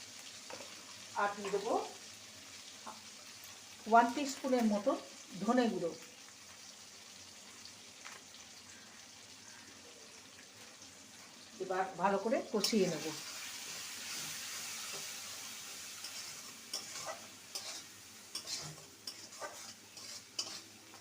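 Ginger and green chilli paste with cumin powder is stirred and sautéed in a pan for a fish curry with winter vegetables, soft sizzling with bursts of spatula scraping against the pan.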